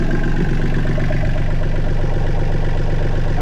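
A diesel engine being pre-run in springtime idles steadily, with a deep, even, rhythmic low throb and mechanical chatter that stay constant throughout.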